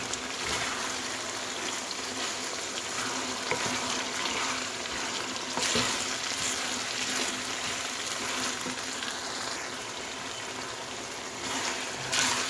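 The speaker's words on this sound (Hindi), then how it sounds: "ये देखें कीमा जो है अभी भून रहा है।" Minced meat (keema) with green chillies fries in a pan with a constant loud sizzle and crackle, occasional stirring scrapes, no talking.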